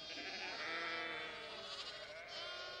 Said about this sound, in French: À la ferme, il y a des moutons et des agneaux.